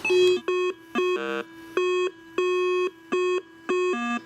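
A metal detector sounds a string of steady electronic beeps, about two per second, each a clear tone with a few dropping lower in pitch.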